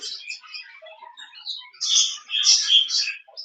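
A small pet bird kept in a cage for breeding chirps in quick, faint, scattered tweets, with a brief busier burst near the end; close but soft.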